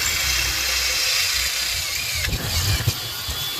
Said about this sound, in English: And then take a 1/4-inch drill bit.